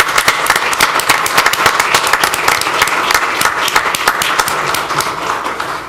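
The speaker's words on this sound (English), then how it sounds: "If we could give them a big round of applause" A council meeting audience gives a loud, steady round of applause for two visiting scouts, many hands clapping close together throughout with no talk over it.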